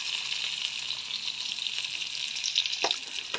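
Ginger paste and onion frying together in oil for chicken curry, a steady soft sizzle that crackles a little louder near the end, with no voices.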